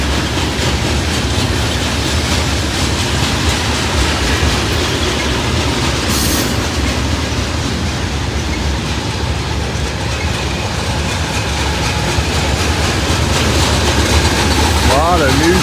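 A long freight train of flatcars loaded with new steel rolls steadily past at close range, a continuous loud rumble with clickety-clack and brief wheel squeal near the end, running alone without talk.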